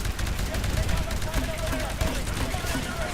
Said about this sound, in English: I'm going to shoot this guy in the legs.